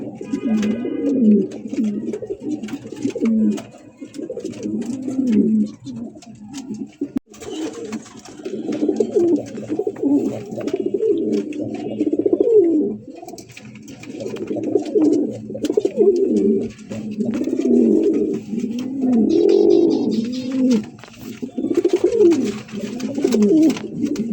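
Black Sirazi running pigeons cooing in a coop, a dense, continuous chorus of low, throaty burbling coos from several birds close by, rising and falling in overlapping waves with no talking.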